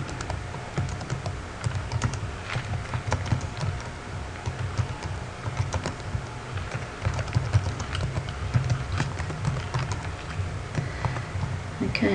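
A computer keyboard typed on steadily and up close, with quick irregular clacking keystrokes over a low background hum. The clatter keeps going throughout without pause.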